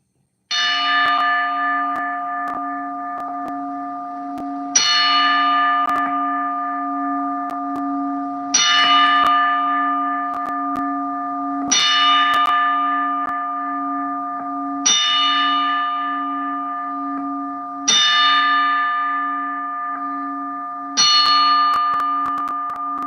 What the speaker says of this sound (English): We're gonna leave the live with a 10-bell salute.